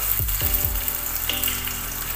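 Garlic for binagoongang manok sizzles in hot oil at a steady, close crackle, with a few soft clinks and scrapes of a utensil over it.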